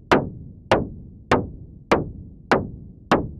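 A Moog synthesizer voice, its amplitude shaped through a VCA by a Cosmotronic Delta-V dual function generator, gives six evenly spaced knocky percussive hits. Each hit has a sharp attack and a quick decay and is loud and isolated.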